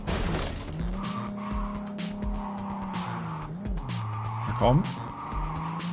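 Engine revving and tires skidding as a car accelerates in Cyberpunk 2077, a steady sustained engine drone with a sharp squeal swell near the end, under someone speaking German.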